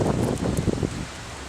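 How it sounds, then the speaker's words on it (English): Outdoor wind gusts roar and rustle steadily across the microphone for a brief stretch, loud and close, with no talking. "So let's watch our camera while the wind blows."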